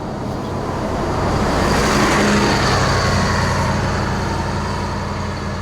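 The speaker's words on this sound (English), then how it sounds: "I'll just wait for this car to go past" A car passes close by on a road, a steady broad rumble of tyres and engine that swells toward the middle and stays loud throughout.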